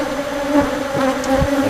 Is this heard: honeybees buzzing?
yes